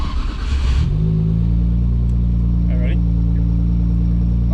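Nissan R34 GTR fitted with titanium intakes, its engine climbing sharply after a short spoken line and then holding a loud, steady, close droning rev.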